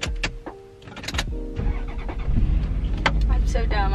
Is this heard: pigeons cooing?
no